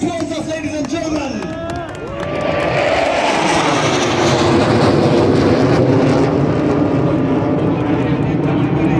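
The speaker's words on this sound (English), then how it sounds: "Now here they come, right from the very corner, the F-7s of the Sri Lanka Air Force, led by Wing Commander Madhura Sarang" Sri Lanka Air Force F-7 jet fighters make a low pass at an anniversary air show, their loud broadband roar swelling after about two seconds and holding steady over crowd noise while a commentator speaks.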